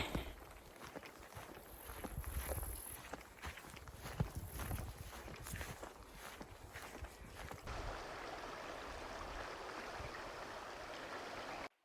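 Water splashing and rushing as backpackers wade across a creek in Bechler Canyon, Yellowstone National Park, with steady, close sloshing steps for most of the stretch, then continuous flowing water after the crossing.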